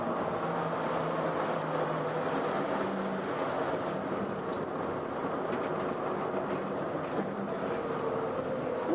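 A Disneyland monorail train rolls into Downtown Disney Station, giving a steady, continuous rumble and whir of wheels and motors with a faint high tone, close and unbroken throughout.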